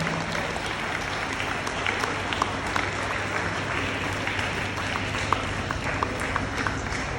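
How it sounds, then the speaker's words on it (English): An audience at a school literary festival gives a sustained round of applause for the teachers, a steady, even wash of many hands clapping from a moderate distance for several seconds. "I really need a big round of applause for my teachers out here."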